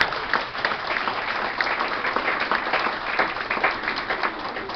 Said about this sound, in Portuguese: Salva de palmas para o Ney Lira